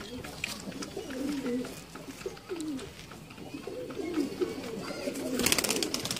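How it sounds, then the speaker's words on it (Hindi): Racing pigeons coo repeatedly in soft, rolling calls, close by, with faint speech and rustling in the background. "इसमें कौन से कबूतर हैं?"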